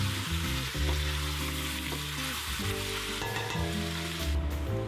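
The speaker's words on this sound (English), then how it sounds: "We want to color the meat first and not just boil it." Meat browning in a deep non-stick pan for Surinamese peanut soup, a steady close sizzle and crackle running throughout, with no talking.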